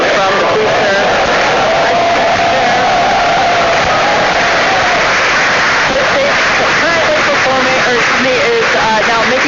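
A crowd in Hawthorne reacts to the blue flames of a rocket booster with a broad, loud, rushing roar of many voices that rises and swells over the whole stretch, heavy and continuous.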